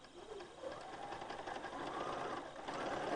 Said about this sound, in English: And I'm going to stitch on my lines.